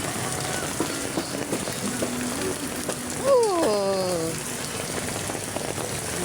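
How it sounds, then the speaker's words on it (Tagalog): Steady rain patters on a surface as a continuous hiss, with a brief tonal squeal rising over it midway. "Tama na yung ulan na yan"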